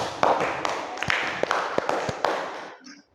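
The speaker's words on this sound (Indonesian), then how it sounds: "Beri tepuk tangan untuk kelompok 2" Scattered, uneven hand claps from a small group in a teaching-practice class session, applauding group 2. Sharp individual claps stand out over a noisy wash before stopping abruptly.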